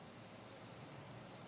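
Crickets chirp in two short bursts of rapid high trills, a faint, quiet comic sound effect dropped in after a joke falls flat, with near-silence between the bursts.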